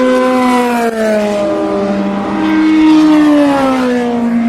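A Delta Wing race car passes by during a nighttime race, its loud, high-pitched engine whine sliding downward in pitch as it goes by, heard alone without talk.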